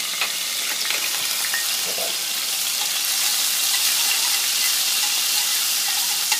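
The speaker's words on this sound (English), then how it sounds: "There's quite a bit of oil. And I'm going to put 1 heaping of garlic." A heaping of garlic frying in a generous amount of oil in a pan: a loud, steady, hissing sizzle that continues unbroken and close throughout, without voices.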